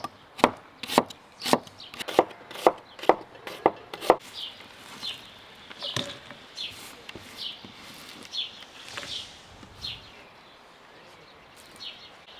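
Knife thinly slicing a red onion into half-rings on a board, about eight quick even cuts in a row, then quieter scattered taps and rustling.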